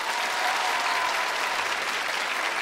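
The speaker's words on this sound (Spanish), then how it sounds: "Un aplauso para ellos." Studio audience applauding on a Colombian TV comedy show, a dense, steady burst of clapping from many hands, loud and even throughout.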